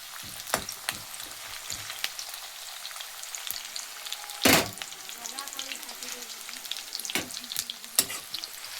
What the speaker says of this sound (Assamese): ৰঙা কৰি ধুনীয়াকৈ ভাজি লওঁ পিঁয়াজটো।